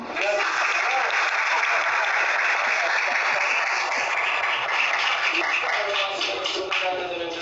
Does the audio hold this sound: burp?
no